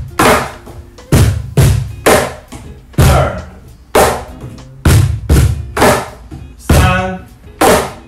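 A wooden cajon box drum played with alternating right and left hands in a practice rhythm combination with a fill, about a dozen loud, close, deep thumps and sharp slaps in steady groups, with no talking over it.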